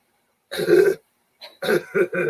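Two bursts of harsh coughing separated by a short pause, the second a rapid series of three or four coughs, close and loud.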